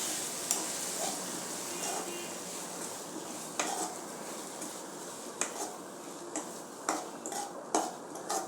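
Grated coconut dry-roasting in a pan for a chickpea curry masala, with a steady soft sizzle broken by sharp clicks of stirring against the metal, close and moderately quiet, no talking.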